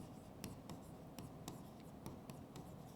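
A question is written by hand with a pen on paper, giving a quiet, close scratch with sharp little ticks at irregular intervals, soft and alone.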